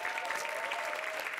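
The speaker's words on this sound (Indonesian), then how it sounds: "Boleh tepuk tangan untuk program stand up comedy?" An audience at a televised stand-up comedy show claps in a dense, steady round of applause, heard fairly faintly and continuing throughout the short moment.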